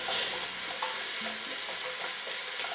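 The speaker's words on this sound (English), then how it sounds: "And we stir that around, and we're going to let that go for about" Chopped bell peppers and onions frying in a pan as they are stirred, a steady close sizzle with light scraping taps from the stirring.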